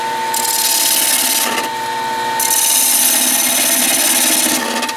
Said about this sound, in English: Okay, time to start working on the inside. Set the lathe up again.